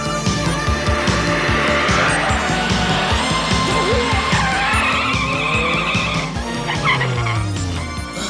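A car in an anime chase scene speeds and skids through a park, tires squealing repeatedly over a loud roaring engine and dramatic music, with brief voices in the mix.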